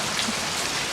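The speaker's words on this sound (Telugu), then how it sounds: "సో వర్షం బాగా పడుతుంది కదా" Heavy rain pours steadily onto surfaces, a dense, loud, continuous hiss and patter with no pauses.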